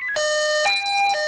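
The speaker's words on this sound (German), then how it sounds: "jetzt geht mein Melder" A fire brigade pager sounds a loud electronic alert: clear, steady tones stepping between pitches in three quick segments, close and alone.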